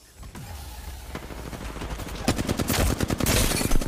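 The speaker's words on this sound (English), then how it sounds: "They're getting shot in the back" Rapid automatic gunfire in an Apex Legends ranked match, building from scattered shots into dense, loud bursts of fire toward the end, with no talk.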